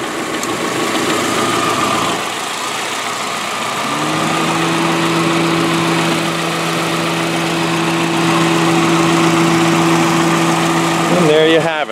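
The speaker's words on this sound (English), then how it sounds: "This is, of course, the typical Subaru boxer engine." A 2005 Subaru Outback's boxer engine idles steadily with a low, even hum and faint knocking vibration, close by; a brief clatter near the end.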